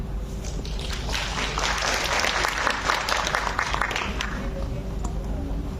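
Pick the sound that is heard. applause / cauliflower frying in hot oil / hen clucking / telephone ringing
applause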